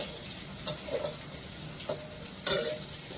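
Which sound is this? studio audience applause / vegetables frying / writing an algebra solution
vegetables frying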